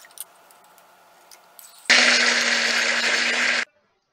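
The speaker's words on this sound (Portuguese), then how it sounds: "colocar esses dois aqui dentro do liquidificador" A kitchen blender whirs loudly for almost two seconds, mixing cream and a can of pressure-cooked condensed milk; a steady motor roar starts abruptly and cuts off cleanly after quieter handling noises.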